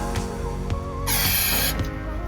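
A single short hiss of aerosol spray into a small engine that won't start, about half a second long, bright and close, following some faint mechanical clicks.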